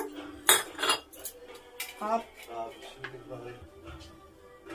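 A cooking pot set down on a home kitchen stove before making vegetable pulao, giving a few clanking metallic knocks with rattling dishes, close by, with a voice speaking intermittently.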